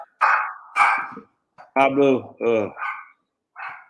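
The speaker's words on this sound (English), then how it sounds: "I love that dog, but man, he's got the loudest bark ever." A dog barks several times in loud, close, sharp bursts with short gaps, the later barks more tonal, and a person speaks briefly between them.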